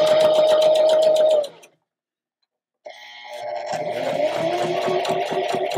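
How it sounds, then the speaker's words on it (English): A sewing machine stitching a basic seam through fabric, a close rapid mechanical whir that runs, stops for about a second of silence, then resumes and builds back up, with no speech. "And then we're just going to continue sewing to the end of the fabric."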